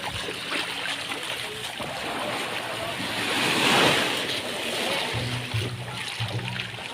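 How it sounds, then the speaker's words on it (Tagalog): Strong sea waves surge and crash near the shore in a steady, loud roar, swelling to a peak midway with wind buffeting the microphone and faint voices briefly underneath. "Ito malakas yung alon na yun."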